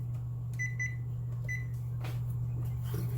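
A kitchen oven timer is set to one hour with a few quick electronic beeps in short pairs, heard alone over a constant low appliance hum.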